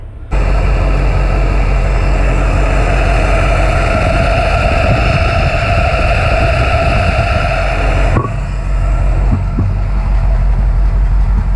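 A Jeep CJ2A engine runs steadily after a stuck carburetor float was freed, a loud, continuous close-up drone with a low rumbling idle and no voices.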